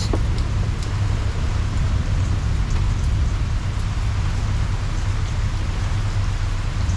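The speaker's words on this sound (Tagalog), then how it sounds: "malakas ang ulan." Heavy rain falls in a steady, dense roar with a low rumble underneath, constant and close throughout, with a few faint taps and no speech.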